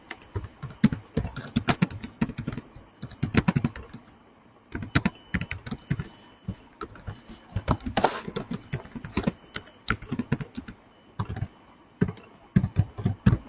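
Someone types Java code on a computer keyboard in bursts of quick clattering keystrokes with short pauses between, close and clear, with no talking.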